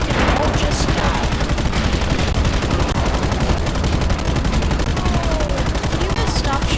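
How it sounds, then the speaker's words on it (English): Rapid, loud, continuous automatic gunfire in the video game Just Cause 3, with dense bursts overlapping throughout and no pauses. "You can stop shooting at me."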